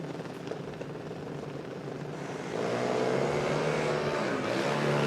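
A C Junior Dragster on a drag strip at Willowbank Raceway, heard at a distance as a droning engine that swells louder partway through and holds a rising, whining tone.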